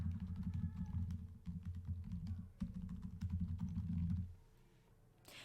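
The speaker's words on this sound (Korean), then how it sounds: "타이핑 하도록 하겠습니다" Rapid keystrokes clatter on a computer keyboard while filling in an Excel spreadsheet, a steady close run of taps that stops near the end, with no voices.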